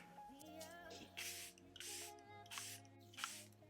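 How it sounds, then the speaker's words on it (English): Several short hissing bursts from a makeup setting spray bottle, spaced about half a second apart, over a faint background hum. "I'm going to spray one last time"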